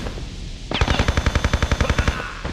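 Rapid automatic gunfire from a weapon in rapid-fire mode in the Tomb Raider Chronicles video game, a loud, evenly spaced burst of about fifteen shots that cuts in after a quiet start and runs for nearly two seconds.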